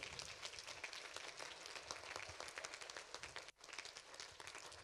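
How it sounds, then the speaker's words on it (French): A church congregation claps, a soft, distant wash of steady applause with a brief dip near the end. "On peut applaudir."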